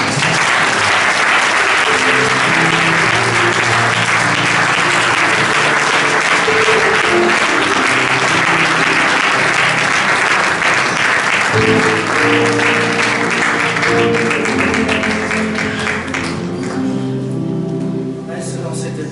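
Church congregation applauding and acclaiming the Lord during worship, sustained dense clapping with voices mixed in, loud and steady throughout before tapering slightly at the end.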